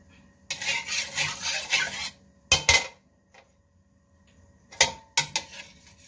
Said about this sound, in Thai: เราจะเคี่ยวกะทิของเราให้แตกมันก่อนนะคะ